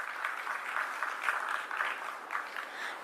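A crowd claps steadily for a few seconds at an energy technology conference, a dense patter of many hands at moderate volume with no voices.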